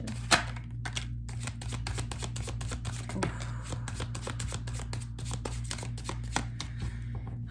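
Tarot cards being shuffled and drawn by hand, a close, steady run of crisp riffling flutters and soft card slaps with brief pauses, over a low background hum.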